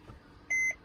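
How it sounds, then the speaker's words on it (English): A single electronic beep from a Mercedes Sprinter van's dashboard after a button is held down, a steady tone lasting about a fifth of a second, clear and close over a quiet cabin background. "Press that till you hear a beep."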